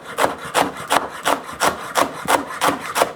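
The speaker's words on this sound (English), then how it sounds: "I will show you how to do the kale in chiffonade." A knife slices rolled kale into thin chiffonade strips on a cutting board, with about nine quick, evenly spaced strokes close by and no talking.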